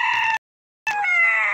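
Two loud, tonal bird calls separated by a brief silence, close and clear, resembling a hen's drawn-out squawk.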